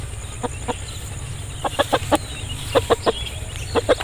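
An Aseel rooster, a long-tailed fighting breed, gives a run of short, close clucks in small clustered bursts against a low steady hum, with no talking heard.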